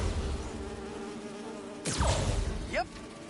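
Bees buzzing in the video game Marvel's Spider-Man 2, a steady insect drone under game ambience, followed by a sharp whooshing swipe and a quick rising chirp near the end.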